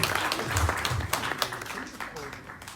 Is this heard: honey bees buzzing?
no